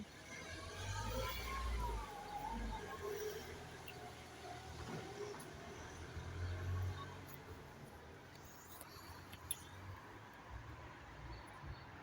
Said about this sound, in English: just wait for this noisy car to get out of the way.